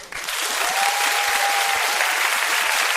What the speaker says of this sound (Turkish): Üçüncü arkadaşımıza alkış alayım.